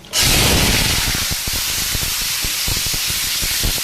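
Cumin seeds hit hot oil to temper a taro curry, bursting into a loud, sudden hiss that holds as a dense, steady sizzle with faint crackles underneath.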